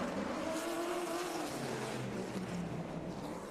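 Muscle race cars in the Muscle Car Challenge tearing through a bumpy track section, engines droning steadily at a distance with shifting pitch, a faint continuous motorsport roar.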